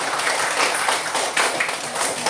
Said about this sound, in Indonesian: Kita beri tepuk tangan untuk kelompok 1, kelompok 2, kelompok 3, kelompok 4.